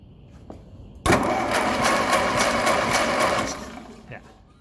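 A 1957 Ferguson 35 tractor running on TVO is cranked over, giving a loud, steady whirring churn that starts abruptly, holds for about two and a half seconds and then winds down, close by.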